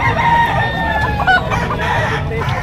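Rooster crowing at a chicken market in Padre Garcia, Batangas, with clucking fowl and a busy crowd murmur throughout; crows rise and fall over constant background noise, near and fairly loud.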